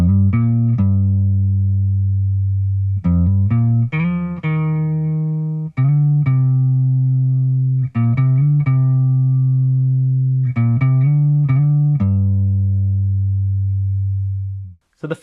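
Distorted electric guitar plays a riff, with low sustained notes broken by quick sliding and hammered phrases, repeating loud and clear with no talking.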